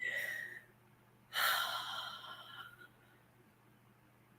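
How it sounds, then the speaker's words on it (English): A group taking a deep breath together during a tapping session: a long breathy inhale, a pause, then a louder whooshing exhale, with no talking. "everybody take a deep breath"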